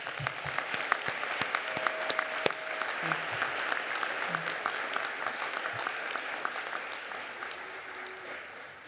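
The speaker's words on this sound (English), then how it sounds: "Let's give them another round of applause." Crowd applause for graduates at a 2024 college commencement ceremony, a dense steady clapping from a large audience filling the hall, with a few sharper claps standing out and the sound tapering slightly toward the end.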